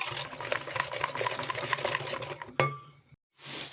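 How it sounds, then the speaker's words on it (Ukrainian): A whisk beating sugar into cheesecake batter in a bowl, a fast steady scraping and clicking rhythm that stops abruptly, followed by a brief pause and a short resumption. "Збиваємо вінчиком, розмішуємо"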